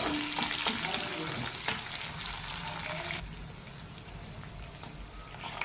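Slit green chillies and onion fry in hot oil for wheat rava upma, a dense sizzle with scraping stirs that drops suddenly to a quieter hiss partway through, heard up close without speech.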